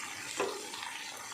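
Cauliflower frying in a pan while being stirred, a quiet, brief hiss with a soft scrape partway through.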